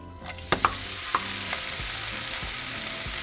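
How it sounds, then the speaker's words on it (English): Bacon frying in a pan fills the clip with continuous sizzling, with a few sharp clicks and scrapes near the start. "we're going to start by cooking our bacon."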